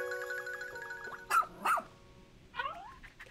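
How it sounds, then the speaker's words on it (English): A space dog rescue pup from the video game Pikmin 4 lets out two sharp barks in quick succession, then a short higher yip a second later, loud and close over soft game music. "This young loyal rescue pup is one of an elite breed of space dogs that's long served the Shepherd family."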